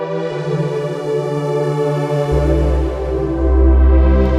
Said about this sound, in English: I'm going to click on synth pad right here so that it only shows us synth pads. And I'm going to select the stereo sweep pad.